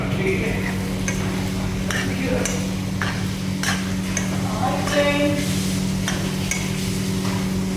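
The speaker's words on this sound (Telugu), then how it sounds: "ఈ అల్లం ఎల్లిగడ్డ క్యాప్సికమ్ మంచిగా నూనెలా గోలించుకోవాలా" Ginger, garlic and capsicum fry in oil in a pan, a steady sizzle broken by repeated clinks and scrapes of a spoon stirring against the metal.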